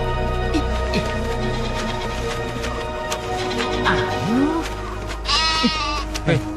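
A goat bleats several times in wavering cries over a dense, steady backdrop of music and other sound, with voices mixed in.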